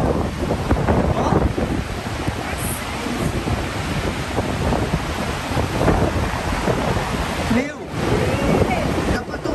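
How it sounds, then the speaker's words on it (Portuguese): Cold, gusty wind at a waterfall buffets the microphone in heavy rumbling bursts over the continuous roar of water, staying loud and unsteady throughout. "O vento gelado pra caramba."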